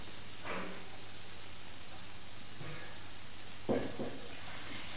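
Continuous sizzle of fish fat frying in oil, with onion stalks and slit green chillies dropped in, a steady hiss broken by a few brief scraping stirs of a utensil in the pan.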